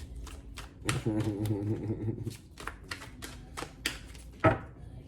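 Tarot cards being shuffled by hand, a series of crisp riffling and snapping bursts with short pauses, close and fairly quiet, with a brief low hum under one stretch.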